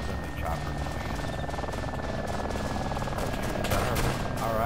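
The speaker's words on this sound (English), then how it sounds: "Let's see if this is our friendly chopper coming in." Rotor drone of a friendly helicopter arriving over a war video game battlefield, a steady loud whir beneath bursts of gunfire and combat noise, with a player's voice talking over it.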